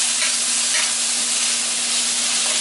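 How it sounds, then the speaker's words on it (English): Sweet potato home fries frying steadily in a pan, a constant broadband sizzle with a faint low hum underneath and brief stirring scrapes; no one speaks. "We'll give them a stir"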